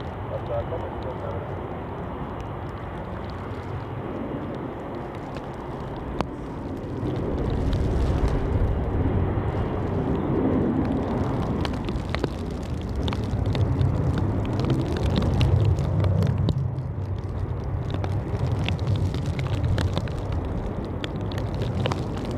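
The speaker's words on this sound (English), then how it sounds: "Take off for KLM, off to Amsterdam" A KLM airliner bound for Amsterdam takes off from Zurich Airport during Storm Goretti: a broad, steady engine roar that swells and stays loud through the takeoff, with voices talking over it.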